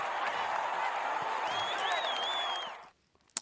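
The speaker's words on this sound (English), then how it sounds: "let's get a round of applause for that" Steady applause from a live podcast audience, sustained for a few seconds before cutting off, with a faint whistle-like tone riding over the clapping.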